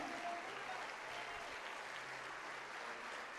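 A church congregation applauding together, a steady, even wash of clapping heard from a little distance and moderately faint, with no voices standing out.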